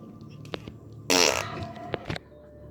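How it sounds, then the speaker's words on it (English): The walrus egg creature in Subnautica lets out a loud, buzzing fart-like blast lasting about a third of a second, with a few softer clicks and thumps around it and no talking. "I just wanted to show you the farting walrus egg."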